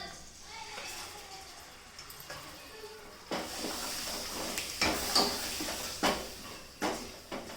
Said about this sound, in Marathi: मसाला चांगला परतून घ्यायचा।